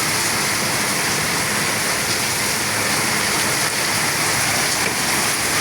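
Steady, dense rain pours down continuously, a broad hiss with no breaks and no voices.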